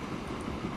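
A train rolling into a station in the Transport Fever simulation game, a steady low rumble of wheels on rails, continuous and moderately close.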